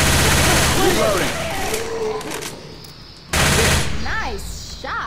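Gunfire in the zombie shooter Left 4 Dead 2, loud sustained bursts of automatic fire that drop away briefly and then resume, mixed with game noise and character voices.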